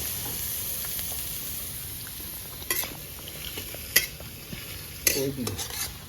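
Onion sizzling in hot oil in a pan with a dried chilli while cooking Mughlai egg paratha, a steady crackling fry broken by a few sharp utensil clinks and scrapes.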